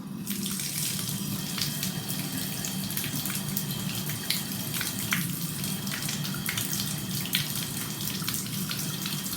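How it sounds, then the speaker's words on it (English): Water runs steadily from a bathtub faucet, a constant splashing hiss with no talking. "just to turn the water on and see how this flow goes"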